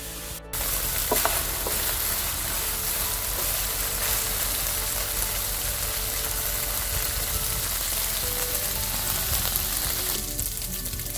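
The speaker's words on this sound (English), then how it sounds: "if you're using a nice heavy iron wok, you want to do this on high flame so the beef cooks and browns at the same time" Beef stir-frying on high flame in a heavy iron wok gives a loud, continuous, dense sizzle that holds steady from start to finish, with no voices over it.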